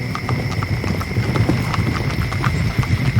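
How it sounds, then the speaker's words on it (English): A stage sound effect of horses' hooves for a college Macbeth production, a steady clip-clop of approaching hoofbeats, fairly close and rhythmic, with faint whinnying. "I hear horses."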